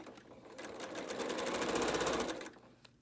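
Sewing machine running steadily for about two seconds, stitching rows of a small maple leaf quilt block with a quarter-inch seam, starting up and slowing to a stop, close and alone.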